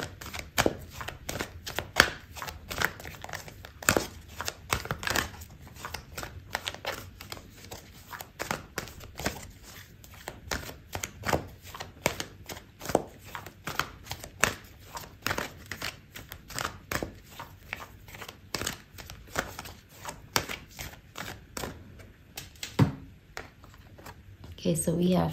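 Tarot cards being shuffled and a card pulled from the deck, a steady close run of soft riffling slaps and snaps carrying on under a talking voice.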